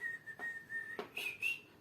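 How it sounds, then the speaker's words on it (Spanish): A person whistles a short melody alone: a few clear, sustained tones with slight pitch shifts, quiet and close, with no talking. "todos hemos silbado."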